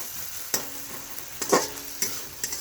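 Chopped green chillies frying in a pan, with a soft continuous sizzle and several sharp stirring clinks and scrapes of a utensil against the pan, no speech.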